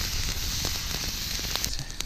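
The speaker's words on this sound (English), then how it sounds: "So while the bacon is frying up" Soft sizzling and crackling with faint pops, steady and close, as bacon fries over an outdoor campfire.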